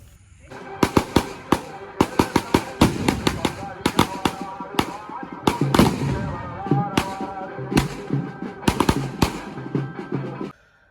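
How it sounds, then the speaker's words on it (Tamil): Firecrackers burst in dense, rapid volleys at a funeral beside a house, sharp cracks crowding together, loud and close, with a brief pause midway before more bangs, ending abruptly. "அந்த பட்டாசு வெடித்தாங்க"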